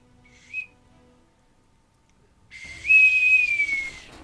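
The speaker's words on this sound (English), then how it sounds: "I think someone's got a bosun's whistle." A bosun's whistle gives a brief chirp, then after a pause a long, shrill, steady tone that slowly dips in pitch, loud and near in an otherwise quiet room.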